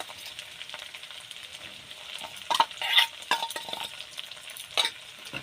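Onion, ginger and green chilli paste sautés in hot oil for a curd-based fish curry, a soft steady sizzle broken by repeated scraping stirs of a spatula against the pan, close by.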